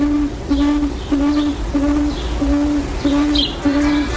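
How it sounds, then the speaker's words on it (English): A tawny frogmouth gives its soft, repetitious night call, a steady series of low, even pulses repeating about every half second, with faint higher bird sounds in the background. "The bird makes a number of sounds, including this soft, repetitious call,"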